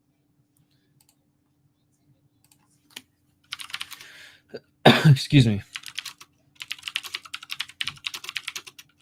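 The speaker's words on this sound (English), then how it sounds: "This is my old keyboard that I just haven't used because it's so loud." Rapid clattering keystrokes on a loud old computer keyboard, close and crisp in short bursts, with someone speaking briefly between the typing.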